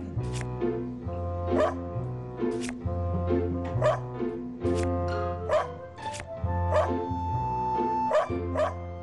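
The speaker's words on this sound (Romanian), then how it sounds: "Latră când vezi mâncarea pe care o dorești." A cartoon dog barks in short, repeated yaps over a musical soundtrack, asking for food in a lively, rhythmic run of barks.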